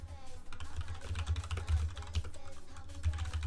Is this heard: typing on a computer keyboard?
yes